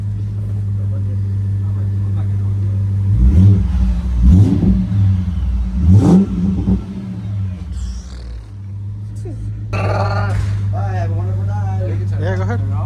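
A BMW E60 550i with a muffler delete idles with a deep steady rumble, then revs sharply three times before settling. Voices talk and shout over the engine near the end.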